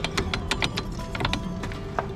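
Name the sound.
Chevrolet Corvette C4 brake caliper rattling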